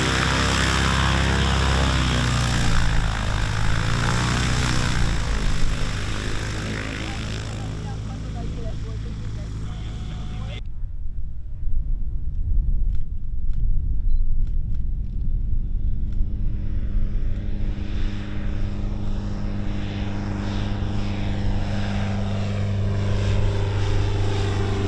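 A small rented propeller airplane flying in formation toward an air show, a loud steady droning engine roar that shifts in tone midway and carries on unbroken throughout.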